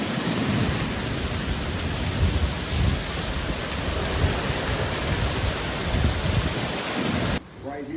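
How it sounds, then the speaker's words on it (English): Heavy rain pours steadily during an Oklahoma thunderstorm with tornadoes reported nearby, a dense continuous roar with low rumbling underneath, cutting off abruptly near the end to a quieter outdoor tone. "That rain feels good though."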